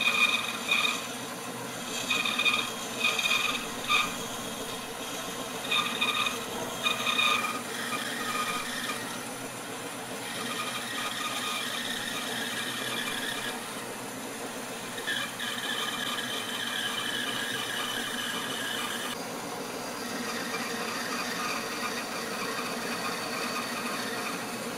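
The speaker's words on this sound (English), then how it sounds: "So we will take this over to the bandsaw, and then we will start cutting it." Bandsaw cutting through a mahogany mast mount for a small trimaran sailboat: a steady mechanical whine and rasp runs throughout, with pulsing squeals early on as the blade bites into the wood.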